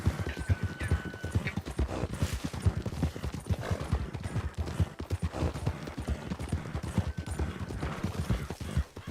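Horse hooves clip-clop at a brisk, steady rhythm in a video game. The hoofbeats are close and fairly loud over a busy background, and a brief whinny may be heard.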